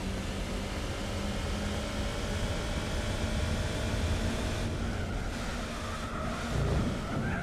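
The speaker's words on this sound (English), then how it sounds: "Really rev it out." A car engine in the Gran Turismo 4 racing game revs hard and steadily at high pitch, a continuous loud drone holding throughout with slight shifts in tone near the end, with no talking over it.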